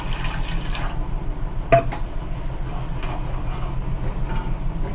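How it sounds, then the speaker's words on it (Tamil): Water poured into a pot to start agar agar pudding, a soft continuous trickle with a brief clink of the vessel partway through, close by, no talk. "அதுக்கு வந்து ஃபஸ்ட்டு தண்ணி ஊற்றிக்கலாம்."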